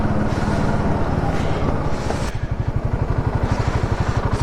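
A Royal Enfield Himalayan 450 rumbles close by with a steady, pulsing single-cylinder beat as it is rolled forward after a roadside stop, with wind buffeting the microphone early on.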